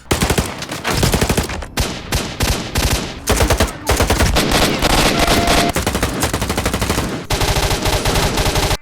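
Gunfire from the S.T.A.L.K.E.R. video game: dense, loud bursts of automatic fire with rapid shots and brief gaps, continuing almost nonstop throughout.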